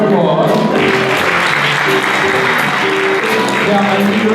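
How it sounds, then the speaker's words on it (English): A school audience applauds the Eastern Connecticut Symphony at a concert in Norwich schools, a loud, dense and steady wash of clapping and cheering that fills the whole stretch with no break. "Let's give the Eastern Connecticut Symphony a big round of applause."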